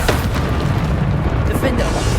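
Bombarda spell explosions in Hogwarts Legacy on PS5 make a dense, continuous low rumble of booming blasts, loud and close, layered over ongoing game combat noise.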